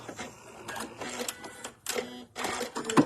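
A sewing machine stitches a decorative seam on a small fabric bath tea sachet in several short bursts of rapid mechanical whirring separated by brief pauses, close and clear.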